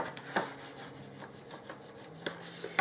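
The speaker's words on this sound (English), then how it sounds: "And again with the burnishing." A paper fold on a gift bag is burnished by hand, giving quiet, close rubbing strokes with a few sharper scrapes and taps.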